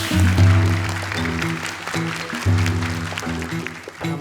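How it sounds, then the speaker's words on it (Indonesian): Studio audience applauds contestant Salwa on the Hafiz Indonesia 2019 Quran recitation show, a steady clatter of clapping laid over a sustained tonal music bed for about four seconds. "Boleh tepuk tangan lagi untuk Salwa"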